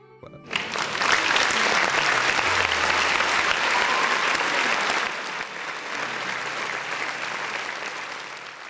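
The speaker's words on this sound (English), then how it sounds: "round of applause to the folks in the chat" A recorded applause effect played during a gaming-news livestream surges in abruptly, holding as a loud, dense wash of clapping and crowd noise before easing slightly toward the end; no talk over it.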